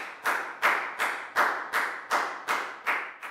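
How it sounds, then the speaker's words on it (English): Eight slow, evenly spaced handclaps ring out crisply in a classroom with no talking, each one a sharp close clap that fades quickly. "High five and a big round of applause."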